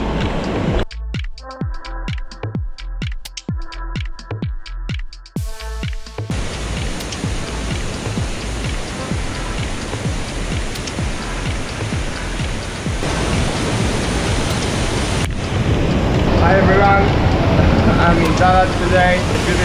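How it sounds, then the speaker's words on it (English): After some sharp clicking and rustling, a steady broadband roar of a waterfall near Dalat, Vietnam takes over and grows louder, continuous and rushing. "I hear you, waterfall, I hear you."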